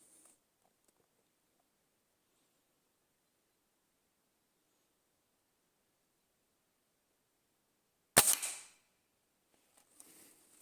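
A single sharp report from a Hatsan 125 air rifle fitted with a 4x scope, fired at a 25-yard target: one loud, abrupt crack with a short decaying tail, breaking near silence, followed by faint handling noise.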